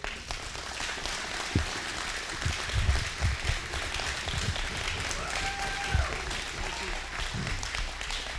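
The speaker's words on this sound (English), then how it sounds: "We'll give him another round of applause here real quick." A wrestling-show audience gives another round of applause for legend Danny Davis, a steady wash of clapping lasting throughout with scattered louder claps and brief voices mixed in.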